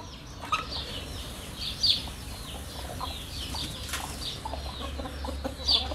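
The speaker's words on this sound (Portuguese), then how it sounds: "nós temos oficialmente 3 galinhas botando ovo verde" Laying hens cluck and squawk in an outdoor hobby coop, a steady run of nearby clucks with a few louder squawks and some wing flapping, and no talking.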